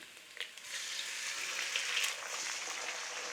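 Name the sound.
eggs cracked into hot pan, sizzling for egg fried rice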